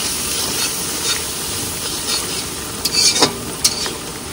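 Spices being stirred and fried in a pan make a steady, close sizzle with scraping spoon strokes, a few louder scrapes near the end, and no voices.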